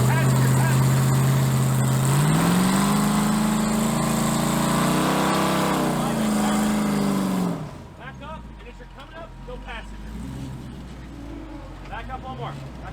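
An off-road vehicle's engine revs hard and loud as it climbs a rock on a rugged trail, pitch rising and holding for several seconds before dropping off to a low idle while people talk over it.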